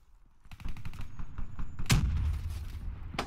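Rapid gunfire from a hard-to-control gun in Call of Duty Black Ops 3: loud, close bursts of shots with a sharp blast near the middle and another near the end, over a busy game background.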